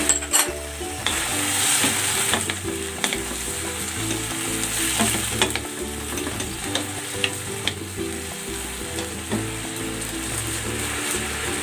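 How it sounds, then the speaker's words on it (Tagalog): Marinade poured into a hot pan of Filipino pork adobo, giving a loud, steady sizzle and frying hiss with occasional clinks of a spoon or pan, no voices. "Ibubuhos ko na dito yung pinagbabaran."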